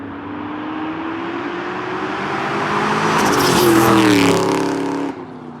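A 1999-2004 New Edge Ford Mustang with an SLP Loudmouth catback exhaust revs up close by. The deep exhaust note climbs steadily to a loud peak, then cuts back to idle.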